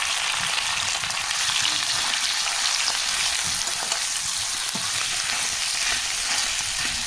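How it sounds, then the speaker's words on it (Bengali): Potatoes and cumin seeds frying in hot oil give a loud, continuous close sizzle with faint crackles and occasional stirring, with no voices. "জিরাটা দিয়ে দিলাম আলু কটা দিয়ে দিই"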